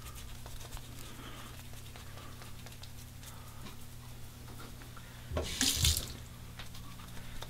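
Hot water runs from a tap onto a shaving brush to soak it, a soft steady stream close by, with a brief louder splashing burst partway through.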